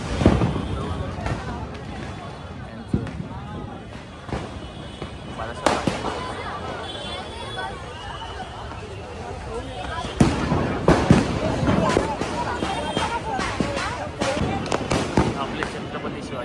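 Firecrackers bursting at a Dipotsav lamp festival in Shivaji Park, Dadar, with several sharp loud cracks scattered through a noisy outdoor crowd, and people talking throughout.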